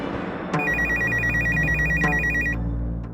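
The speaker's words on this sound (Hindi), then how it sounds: "इस वक्त किसका फोन हो सकता है?" A telephone rings loudly and close at hand in an indoor domestic scene from a Hindi TV serial. An electronic trilling ring repeats in a steady pulsed pattern for about two seconds, with no talk over it.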